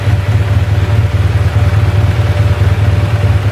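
A motorcycle engine runs close and loud during carburetor tuning and air adjustment, a steady, throbbing low drone with an even pulse and no clear rev changes, with no one talking.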